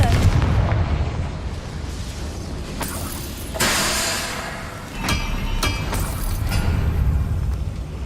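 Blasting spell explosions in the Hogwarts Legacy video game, several loud booms and bursts over a continuous rumbling battle din, with sharp impacts around the middle and later, close and forceful.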